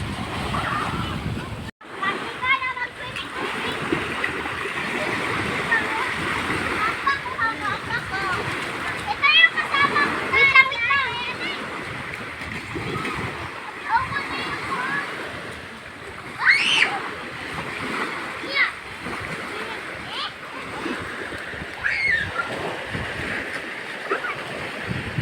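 Sea water splashes and surf washes at a beach, a constant loud rushing wash with sloshing bursts, while adults and children talk over it throughout.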